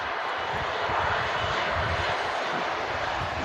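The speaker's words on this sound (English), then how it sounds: "Virgin Atlantic Airbus A330 taxiing out" A Virgin Atlantic Airbus A330 taxis out at Manchester Airport, its jet engines giving a steady, loud, roaring whine that fills the whole stretch with no break.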